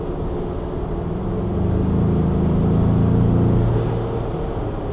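A 2021 Ford Bronco 2.3L engine fitted with a K&N cold air intake hums steadily from inside the cab, its low drone swelling gently as it accelerates and then easing back.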